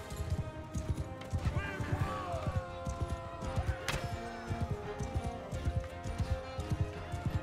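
Many hooves pound in a fast, continuous clip-clop of galloping horses, with a neigh and battle noise mixed in, in the game Mount & Blade II: Bannerlord.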